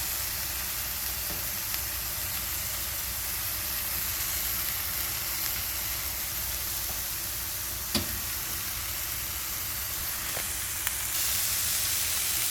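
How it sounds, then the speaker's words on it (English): White onion sizzles steadily in a hot pan, a dense, even frying hiss that runs throughout with a couple of faint clicks and no talking. "and a nice white onion. And you want to cook those up."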